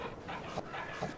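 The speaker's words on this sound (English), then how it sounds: "Oh, we have a little dog." A small dog in the farming video game Farming Simulator pants in short, soft, rhythmic breaths at close range, quiet and alone with no talking.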